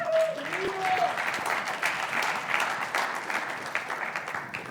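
Conference audience applause for a named attendee, a full crowd clapping steadily at close range, with a voice briefly heard over the start before the clapping carries on alone.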